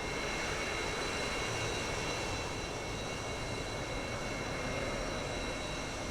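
A Su-35S jet flying in the DCS combat flight simulator gives a continuous, dense engine roar with a high whine layered on top, steady and loud for the whole stretch.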